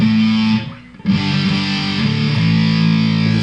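An electric guitar runs through a Keeley-modded Boss DS-1 distortion pedal, playing loud, saturated sustained chords with a brief dip before the next chord rings out thick and buzzy.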